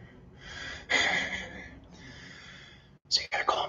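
Heavy, rapid breaths rasp close to the microphone after a burst of HIIT home-workout exercise, with a sharp gasping inhale partway through and a few quick huffs near the end.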